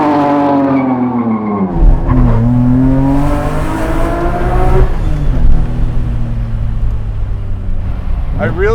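A supercharged BMW E30 Touring wagon making 470 hp revs hard through gear changes, tires spinning and smoking, pitch climbing and dropping, with rough tire noise and a loud roaring rumble throughout, voices mixed in.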